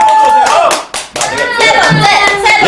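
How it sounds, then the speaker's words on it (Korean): Audience clapping to welcome a member of the K-pop girl group Fiesta at a live interview event, loud close handclaps with a brief dip partway before resuming, mixed with cheering voices. "이어서 세 번째 멤버를 박수로 모시도록"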